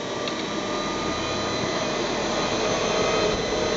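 A WarP9 electric motor driven by a Soliton1 controller spins at maximum RPM, making a loud, constant, high whine over a dense rushing hiss with no pauses.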